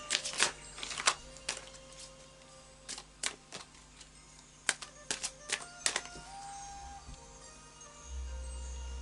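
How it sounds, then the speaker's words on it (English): A deck of oracle cards is shuffled and tapped in a quiet room, giving scattered crisp snaps and riffles with short pauses, fairly faint and close. "So I'll just do a final shuffle."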